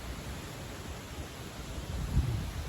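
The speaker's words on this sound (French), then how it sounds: "Donc le vent continue de souffler à la même vitesse" Steady autumn night wind blowing at about 60 km/h, a constant low broadband rush with a brief gust near the end, heard alone without voices.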